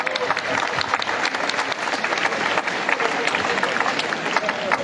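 An audience applauds loudly and continuously at the inauguration of a bullring arena, with dense crowd clapping and scattered cheers filling the space.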